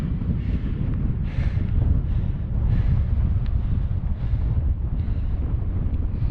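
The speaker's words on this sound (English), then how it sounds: "I've just peeked out on the ridge and I found the wind" Strong gusty wind on a mountain ridge at Little Scoat Fell, a loud, continuous low roar buffeting the microphone, surging and easing slightly, with no one speaking.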